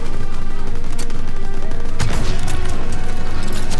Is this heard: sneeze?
no